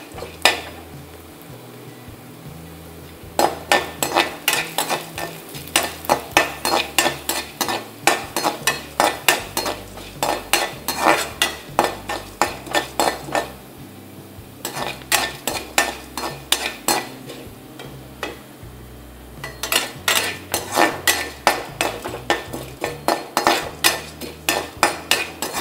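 Chana dal dry-roasting in a few drops of olive oil, a spoon scraping and clacking rapidly against the pan in bursts of quick rhythmic strokes with short pauses, close and loud, with only a faint sizzle beneath.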